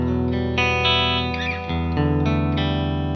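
Electric guitar chords ringing out bright and sparkly, with shimmering effects and a wash of reverb, played continuously without any voices.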